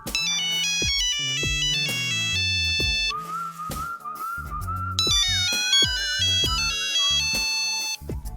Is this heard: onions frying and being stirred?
no